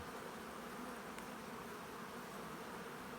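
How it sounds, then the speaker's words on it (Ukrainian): Bees buzz steadily around a hive, a dense continuous drone of many insects close by, with no voices. "І тут крутяться бджоли"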